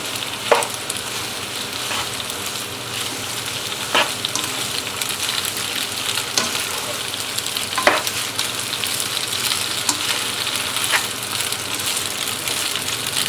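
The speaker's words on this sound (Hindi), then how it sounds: "आँच को तेज कर लें और इसको अच्छे से मिक्स कर लें" Macaroni with capsicum and soft carrots tossed in a pan over high heat, a steady frying sizzle with occasional sharp scrapes and clinks of the spoon against the pan.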